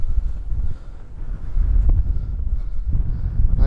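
Strong gusts batter the microphone on the open summit of Darwen Hill, a close, buffeting low roar that swells and dips without a break.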